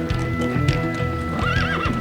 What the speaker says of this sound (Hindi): घोड़े पर?